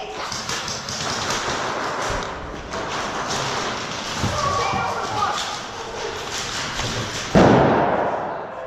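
An airsoft hand grenade goes off indoors at close range, a sudden sharp burst near the end that cuts through a steady wash of broadband noise in a close-quarters arena.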